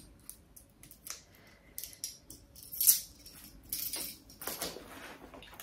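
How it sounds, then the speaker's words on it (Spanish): Small scissors handled near the mic, with soft metallic clicks and snips scattered irregularly, one brighter click standing out, in a quiet room with no talk. "Unas tijeritas estas chiquitinas."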